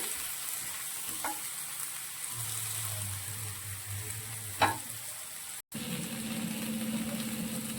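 Pumpkin sizzling in a frying pan, a steady hiss broken by stirring scrapes and a brief clatter, followed by a louder burst of sizzling near the end.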